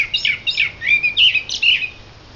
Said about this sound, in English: Welcome to the aviary